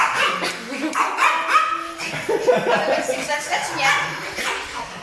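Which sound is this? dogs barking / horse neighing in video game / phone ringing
dogs barking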